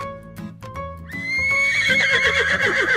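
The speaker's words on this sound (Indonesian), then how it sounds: "Tiga, kuda, horse." A horse whinnies loudly, a rising then shaky, wavering neigh that carries on for a couple of seconds over a low rumbling background, with no talking.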